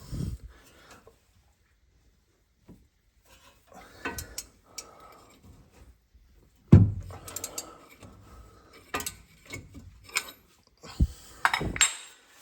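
A ratchet loosening a brake bolt on a Land Rover Defender, heard as sparse clicking and metallic clanks close by, separated by quiet gaps.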